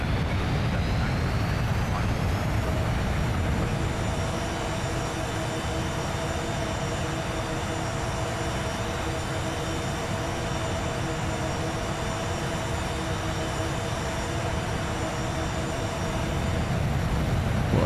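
Avro Vulcan jet in a flight simulator game, its engines roaring steadily and loud throughout with a constant broad rumble and whining tones, no pause in the noise.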